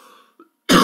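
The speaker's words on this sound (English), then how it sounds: "gosh, I hate this cough." A single sharp, loud cough bursts out at the end after a brief quiet pause and a faint throat sound, close to the mic.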